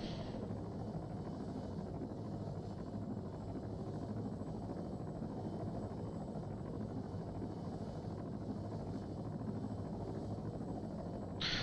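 A helicopter in ARMA 3 holds a low hover during a rotary training checkride, producing a steady, muffled rotor and engine drone that runs evenly throughout with no talking.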